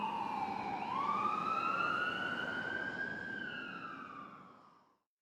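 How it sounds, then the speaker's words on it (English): A wailing ambulance siren sweeps up and down over traffic rumble, starting loud and close, then fading as the vehicle drives away until it cuts off. "I watched desperately as the ambulance drove away,"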